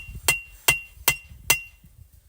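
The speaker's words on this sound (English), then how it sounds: "when I'm forging these bevels, it curves the blade up" A hammer forges bevels into a chef knife blade made from a coil spring, four sharp ringing metallic strikes at an even pace followed by a fainter fifth blow, close and clear with no talking.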